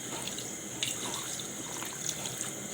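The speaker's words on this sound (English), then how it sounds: "So now I'm gonna be adding the water." Water runs steadily into a pot of chicken, a soft continuous splashing pour at low volume with faint drips throughout.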